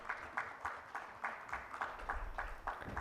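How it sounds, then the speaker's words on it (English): A conference audience applauds a panel member, a faint rhythmic clapping that comes in regular pulses, steady and fairly distant in a large hall. "Let's have a huge round of applause for him as well"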